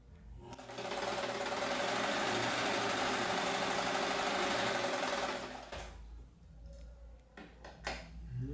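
A sewing machine stitches a homemade fabric case for a PSP in a steady, loud whirring run that lasts about five seconds, then stops and leaves quiet handling sounds.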